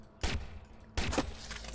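Gunfire in the Watch Dogs video game: two sharp, loud shots roughly three-quarters of a second apart, each a broadband burst with a short decaying tail over a steady low background.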